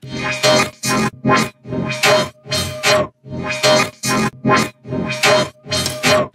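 Rhythmic bursts of a heavy, distorted, resampled future riddim synth bass swelling in and cutting off, eleven or so pulses in an uneven pattern, loud and upfront.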